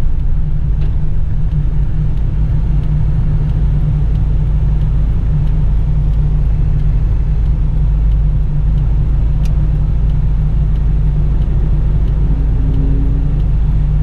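A 1985 Toyota Hilux Surf SSR LN61 turbo diesel 4x4 on the road: steady, loud engine drone and low rumble from inside the cab, continuous throughout with road noise and no talking.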